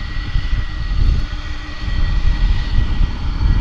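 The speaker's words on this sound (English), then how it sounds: "a Dreamliner just about to take off for Tokyo" Japan Airlines Boeing 787 Dreamliner taking off from DFW Airport, a loud continuous roar of jet engines with deep rumble and steady high hiss, no voices over it.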